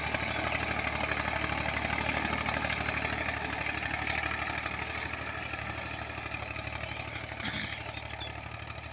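A Massey Ferguson MF 35 tractor engine runs steadily at moderate volume, a continuous even mechanical drone with no clear surges, heard alone without voices.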